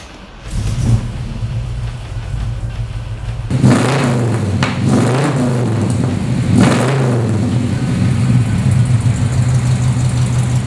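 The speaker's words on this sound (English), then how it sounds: "how about I start it for you, and you can hear how it sounds" A 1967 Chevelle SS 396 V8 cranks, fires and catches, blips its throttle in a couple of deep revs, then settles into a loud, lumpy idle that rumbles on alone close by.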